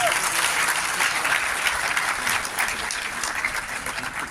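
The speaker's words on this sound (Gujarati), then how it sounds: "ઓ વિઝન માટે તાળીઓ થવી જોઈએ પ્લીઝ" An audience at a women's ITI beauty and fashion event claps together in sustained, dense applause that holds steady throughout without talk.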